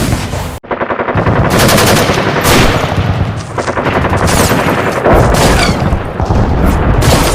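Dense bursts of rapid gunfire rattle continuously like a fusillade, loud and close, with booming shots layered over the sustained automatic fire in a 1919 massacre scene.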